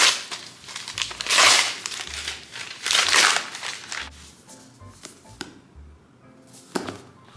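A heavily taped package gets torn open in several loud crackling, crinkling bursts of ripping tape and plastic, close by, separated by quieter rustling.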